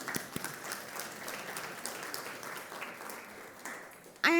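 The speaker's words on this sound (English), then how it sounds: "Let's give them a round of applause," A keynote audience at a food system policy event gives steady, moderately distant applause for public servants, even and sustained before a sudden louder sound at the very end.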